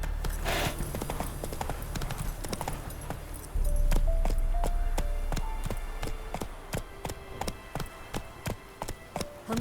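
Hooves of Roach, Geralt's horse in The Witcher 3, clip-clop in a steady, sharp rhythm, the walking pace picking up into a quicker trot over a low ambient rumble, with no voices.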